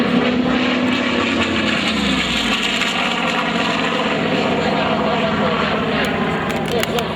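A WWII Corsair propeller fighter passes overhead during a Pacific battle reenactment air show. Its engine drones loud and steady, and the pitch drops partway through, with radio chatter mixed in.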